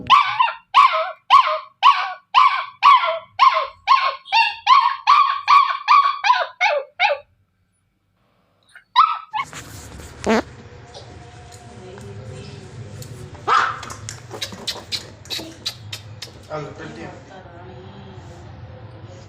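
A sick puppy with parvo and distemper barks in a rapid, steady run of high yips, then after a pause gives scattered whimpers and barks while a person talks nearby.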